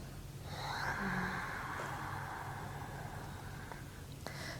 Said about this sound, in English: At the end of your inhale, place the tongue flat on the roof of the mouth and exhale slowly through the nose